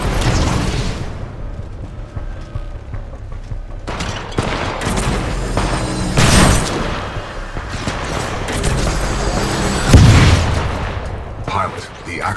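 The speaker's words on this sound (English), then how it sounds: "The Vortex shield catches incoming rounds and missiles." Titanfall 2 combat with gunfire and missiles striking a Vortex shield, loud bursts, booms and whooshing impacts swelling and fading, with a voice speaking over the action.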